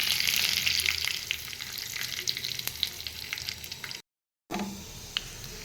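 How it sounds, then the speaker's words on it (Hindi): Crackling sizzle of cumin, mustard seeds, dried red chilli and bay leaves frying in hot oil for tempering, steady and close, with small pops throughout and a brief gap of silence. "एबे हम इसे तड़का दे देबा"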